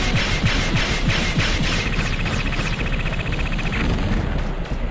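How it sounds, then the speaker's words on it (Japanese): Explosions in the video game Mega Man Legends 2, a loud dense rumbling barrage with repeated bursts and crackling debris, continuous and close throughout. "あんまり近づきすぎると多分、最後のあの爆発巻き込まれるタイプの爆発っぽく見える"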